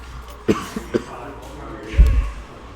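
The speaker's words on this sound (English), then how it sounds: "I had to look away to cough" A few short, sharp coughs close by, scattered across a couple of seconds, with the last one heavier and throatier.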